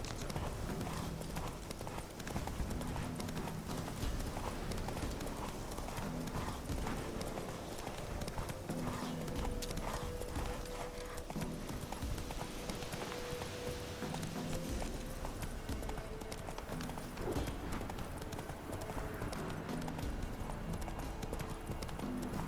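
Horse hooves gallop in a steady, rapid clip-clop rhythm in the video game Witcher 3, continuous and close throughout with faint game ambience underneath.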